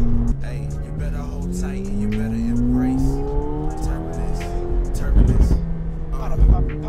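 A McLaren 720S Stage 3 accelerates hard on the Autobahn, its engine rising in pitch through the gears with a loud, continuous roar heard from inside the car, and brief thumps at the shifts.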